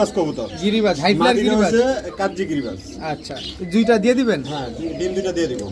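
Pigeons coo in soft, rolling, repeated calls close by, several birds overlapping continuously.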